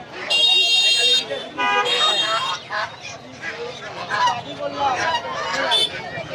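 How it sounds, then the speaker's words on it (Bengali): Geese honking loudly at a busy rural poultry market in Tongi, Bangladesh, with repeated harsh calls in bursts over crowd chatter and voices talking nearby. "এগুলো কিন্তু রাজহাঁস, একটু একটু ছোট সাইজের রাজহাঁস দেখতে পাচ্ছি"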